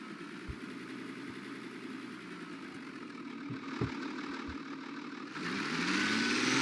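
A Cummins-powered truck in BeamNG pulls away, its steady engine drone holding close and constant before swelling louder near the end, with a few low knocks along the way.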